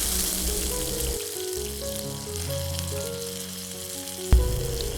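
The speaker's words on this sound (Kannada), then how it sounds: "ಎಣ್ಣೆ ಕಾದ ನಂತರ ಇದಕ್ಕೆ 1 ಟೀ ಸ್ಪೂನಷ್ಟು ಸಾಸಿವೆ, 1 ಟೀ ಸ್ಪೂನಷ್ಟು ಜೀರಿಗೆ ಹಾಗೂ 1 ಟೀ ಸ್ಪೂನಷ್ಟು ಶುಂಠಿ ಬೆಳ್ಳುಳ್ಳಿ ಜಜ್ಜಿರೋದು" Mustard seeds, cumin and crushed ginger-garlic sizzling in hot oil for hesaru kaalu palya, a steady close frying hiss with a sharp knock near the end.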